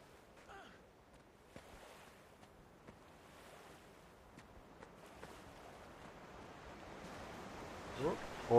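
Waterfall in the Guild Wars 2 video game, a faint, steady rushing wash of water heard from a distance that swells slightly louder toward the end.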